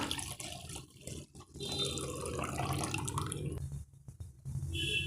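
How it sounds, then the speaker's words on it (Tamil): Milk poured into a pan on the stove for rasagulla, a steady close liquid pour with splashing and burbling, continuous and fairly quiet, briefly dipping near the end. "ஒரு வானல் வச்சுக்கலாம் நாம் இதில் பால் சேர்த்துடலாம்"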